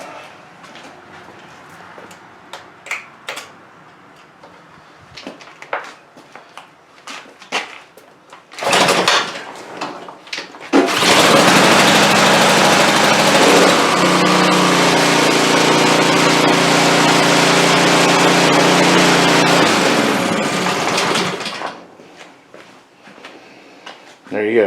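A small pressure washer engine runs dry with no water hooked up, a loud steady drone that starts abruptly and holds for about eleven seconds before cutting off, with scattered handling knocks and clatter before it.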